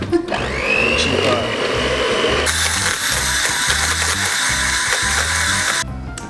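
An electric mixer whirs steadily through carrot cake batter, starting lower and then jumping to a louder, higher-pitched grind partway through before cutting off near the end, with a voice briefly audible beneath it.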